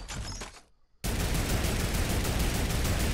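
In Fortnite, a sniper rifle shot cracks suddenly after a brief lull and runs straight into a loud, dense, continuous burst of gunfire-like noise.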